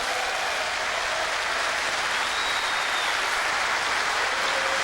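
Comedy show audience applauding in a hall, a steady broad wash of clapping from a large crowd, distant and even throughout.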